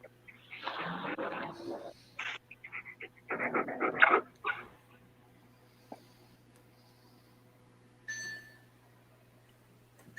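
A pet dog pants in loud, rapid bursts close by, with pauses between the runs of breaths and a faint whimper or squeak near the end, over a steady low hum.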